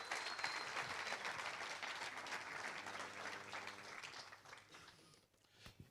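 An audience at an awards ceremony applauds steadily and fairly faintly, as a dense wash of clapping that tapers off toward the end.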